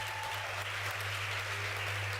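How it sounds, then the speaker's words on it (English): Audience clapping at an arts and culture event: a steady, continuous wash of hands from a crowd at moderate distance, with a low steady hum underneath. "Please give them a clap because they are ladies too."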